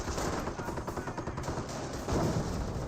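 Rapid machine-gun fire in the Company of Heroes battle game, a dense rattling burst of repeated shots with heavier booming impacts near the end, loud and close with no speech.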